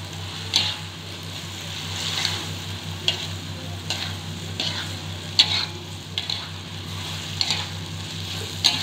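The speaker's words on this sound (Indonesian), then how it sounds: "Aduk hingga tercampur rata." Oyster mushrooms stir-fried with sambal in a pan, a spatula scraping and stirring in irregular strokes over a steady, close sizzle, with no voices.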